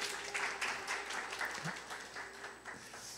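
A church congregation applauding during an anniversary worship service, a short spell of steady, moderately distant clapping from many hands at an even level.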